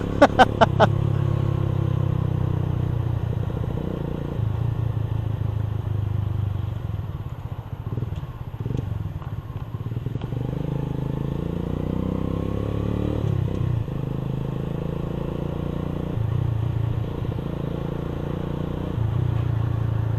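Dense traffic jam in Batangas with cars and motorcycles idling and creeping close by, a continuous engine rumble with occasional revs and rattles.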